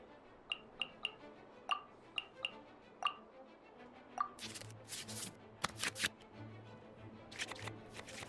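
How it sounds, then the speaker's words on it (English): Cards are shuffled back into the draw pile in the Genshin Impact card game Genius Invokation, first as a quick series of crisp, evenly spaced flicks, then a denser burst of louder riffling swishes, with no voices. "we can select any number of cards in our hand to shuffle back into the draw pile, and then draw the same number of new cards"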